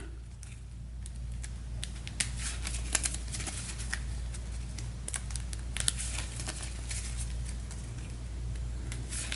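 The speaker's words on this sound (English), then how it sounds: "We'll give this a shuffle." A deck of cards being shuffled, with a series of crisp riffling bursts and soft papery rustles close by, over a steady low background hum.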